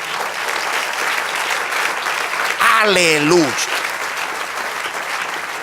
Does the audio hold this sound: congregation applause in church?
yes